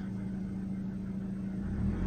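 A 2003 Hyundai Accent engine idles steadily at about 827 RPM, a low continuous hum with a constant drone that swells slightly louder near the end.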